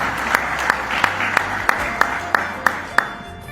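Audience applause at a gathering in America, steady clapping with a few louder, evenly spaced sharp claps standing out on top, moderately close.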